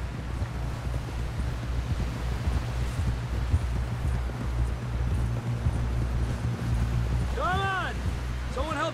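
Hooves clip-clop steadily from a horse in Red Dead Redemption 2, close and rhythmic over wind noise, and a horse-like whinny rises near the end.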